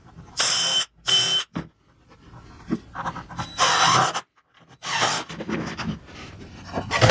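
A power drill drives two screws to fix a star onto a wooden pallet Christmas tree, heard as several loud, close whirring bursts of about a second each, separated by quieter handling noises and knocks.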